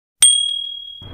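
A single bright subscribe-bell ding sound effect strikes suddenly and rings out with a long, clear, fading tone, followed by a faint low rumble. No one speaks.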